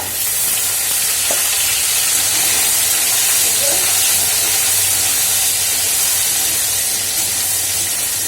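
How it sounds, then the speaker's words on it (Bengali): Okra and potatoes fry in a pan, giving a steady, dense sizzle and hiss that runs unbroken and fairly loud throughout, with a few faint clinks from stirring. "ভাজা হচ্ছে ভিন্ডি আলু"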